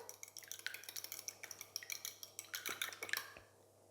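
An egg being beaten in a bowl with a utensil: quick, light clinks and taps repeat at a steady fast rhythm, faint and close, then stop near the end.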